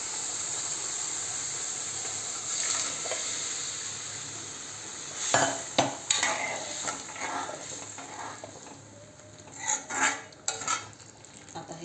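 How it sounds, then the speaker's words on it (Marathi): Cooked kidney beans (rajma) are tipped into a pan of bhaji and stirred, a soft background sizzle broken by several sharp spoon clinks and scrapes against the metal. "आता याच्यामध्ये हा शिजलेला राजमा टाकूया."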